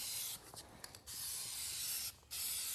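A DupliColor spray paint can hisses in steady bursts, a broad airy spray sound close up, briefly cutting out twice before resuming.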